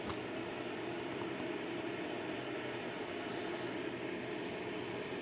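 Boeing 787 jet engines climbing out after takeoff in a flight simulator game: a steady, even engine roar and hiss with a constant drone, broken only by a few brief high clicks near the start, with no talking.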